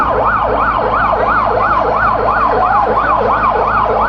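A loud ambulance siren wails continuously in a rising and falling cycle, steady in volume throughout, with traffic rumble underneath, in Sylhet.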